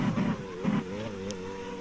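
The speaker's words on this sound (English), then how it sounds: "Accelerating through the gears, gear 4, gear 5." An F1 car from a racing video game, at the Austrian circuit, accelerates through the gears, a steady mid-pitched engine drone rising in stepped shifts, close and moderately loud with no talk.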